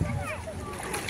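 Children learning to swim in village water splash about in a brief, busy burst, with voices talking over the splashing.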